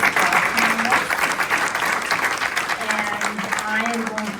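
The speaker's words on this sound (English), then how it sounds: "So one round of applause for our panelists." Sustained, loud applause from a conference audience thanking panelists at a global partnerships panel, dense steady clapping throughout with faint voices mixed in.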